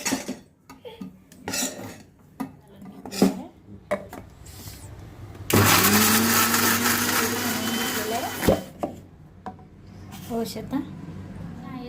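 A kitchen mixer grinder whirs loudly for about three seconds, blending cooled roasted onion and tomato into gravy for Kolhapuri whole masoor curry. Clinks of the steel jar and a voice come before and after the grinding.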